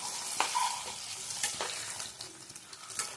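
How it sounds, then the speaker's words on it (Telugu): Eggs frying in hot oil until browned, giving a fairly faint, steady crackling sizzle with a couple of light utensil clinks near the start. "ఎగ్స్ని బాగా బ్రౌన్ కలర్ వచ్చినంత వరకు వేయించుకోవాలండి."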